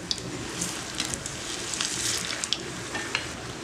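Potato bondas deep-fry in hot oil with a steady, close crackling sizzle and scattered small pops throughout, and no talk.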